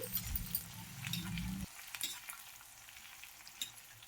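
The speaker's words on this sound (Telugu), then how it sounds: "ఒకే ఒక ఉల్లిపాయ తీసుకున్నానండి ఇవి కొంచెం పసుపు వేసి ఈ ఉల్లిపాయలను కూడా ఫ్రై చేసేసుకోండి" Onions frying in oil with turmeric for a spicy mutton fry, a close crackling sizzle with stirring scrapes and clinks that drops to a quieter, sparser sizzle partway through.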